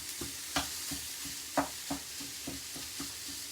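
Lean minced beef browning in a pan with no oil, a soft, faint sizzle punctuated by a regular series of spatula scrapes and taps, roughly one every third of a second, heard alone.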